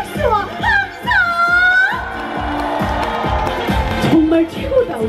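Market song festival crowd in Goesan claps along in rhythm and whoops, blended under loud brassy trot music that continues throughout.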